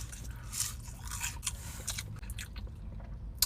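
Crisp bites and crunchy chewing of fast-food chicken nuggets from Burger King, several close, sharp crunches spread across a few seconds with no talking.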